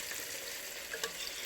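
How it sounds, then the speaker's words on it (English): Coated Korean-style chicken wings fry in a deep fryer, giving off a soft, continuous bubbling sizzle with a few small pops, heard close up and fairly quiet with no talking. "here is a close-up of those wings in the fryer. They got a little coating on them. They're doing a lot of frying."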